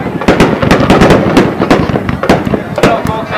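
Fireworks at Sara Park crackle and pop in rapid, dense bursts, loud and continuous, with a voice talking underneath.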